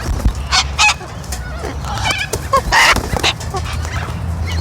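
Chickens and other fowl cluck and squawk nearby in short, loud, irregular bursts, with a goose-like honk mixed in and no talking.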